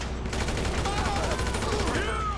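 Sustained rapid gunfire in GTA 5 roars through an intense firefight, a dense, loud fusillade of overlapping shots that runs without pause for the full stretch.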